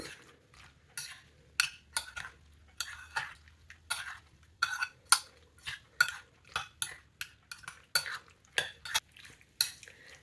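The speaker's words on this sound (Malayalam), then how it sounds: "ഇതൊന്ന് മിക്സ് ചെയ്യാം ഒരു ഫ്രൂട്ട് സാലഡ്" A spoon mixes curd, fruit pieces and honey in a bowl, giving a run of sharp, close clinks and soft wet scrapes at an uneven, steady pace, with no voices.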